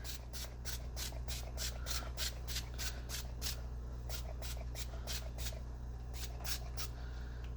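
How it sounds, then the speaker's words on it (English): Leave-in conditioner sprayed onto hair from a pump bottle, a rapid run of short hissing spritzes in quick bursts with brief pauses, close and fairly quiet over a low steady hum. "I'm just gonna spray some of this in just to hopefully help with some flyaways."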